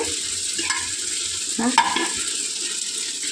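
Curry being stirred and fried in a pan during home cooking, a steady soft sizzle with a few scraping stirs of the spatula near the middle, close and fairly quiet with no voices.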